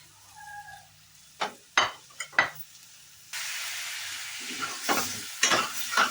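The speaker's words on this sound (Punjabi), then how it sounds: "ਇਹਨਾਂ 2-3 ਮਿੰਟ ਇਸੇ ਤਰ੍ਹਾਂ ਹੀ ਭੁੰਨਾਂਗੇ ਆਪਾਂ ਆਲੂਆਂ ਨੂੰ" Boiled, hand-mashed potatoes fry in a pan for aloo puri curry, with a few scraping stirs before a loud, continuous sizzle takes over, punctuated by more stirring strokes.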